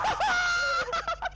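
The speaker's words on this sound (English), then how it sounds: "I have a chicken. What the heck? This sounds so different." A chicken in the Minecraft video game lets out a drawn-out, crowing squawk followed by a few short clucks, loud and close with no talking.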